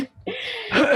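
A single short, rough cough or throat clearing from a person with a cold, close to the microphone, a harsh burst lasting under a second after a brief silence.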